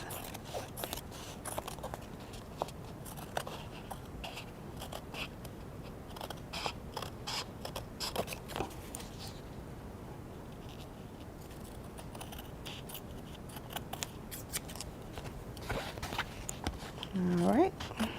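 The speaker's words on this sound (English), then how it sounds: "I'm just gonna go across the edges with my scissors." Repeated crisp snips and rustles of scissors cutting paper, steady and close, with a brief voice near the end.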